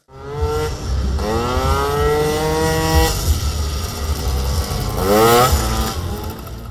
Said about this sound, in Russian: всех желающих байкеры с ветерком прокатили по площади на своих мотоциклах